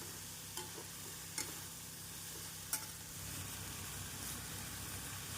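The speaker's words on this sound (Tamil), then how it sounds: "நாம் தேங்காய் பூ சேர்த்து நன்றாக மிக்ஸ் செய்ய வேண்டும்" Mango and coconut sundal stirred in a pan with grated coconut mixed through, giving a steady soft sizzle with a few sharp scraping clicks of the spoon, close and moderately quiet, with no voices.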